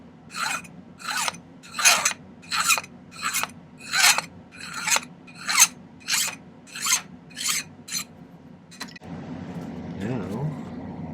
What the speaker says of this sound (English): You can just file right along here.